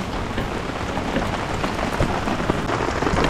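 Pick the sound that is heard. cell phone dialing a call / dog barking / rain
rain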